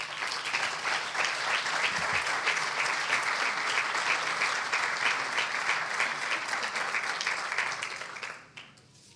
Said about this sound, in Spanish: Un aplauso para Pedro Siles, por favor.